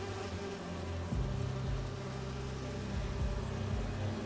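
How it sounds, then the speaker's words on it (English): Holographic bee wolf wasps buzz in the video game Marvel's Spider-Man 2, a steady insect drone with a few swooping pitch glides as they move past, heard over low game ambience. "Do you see those little holographic bee wolves?"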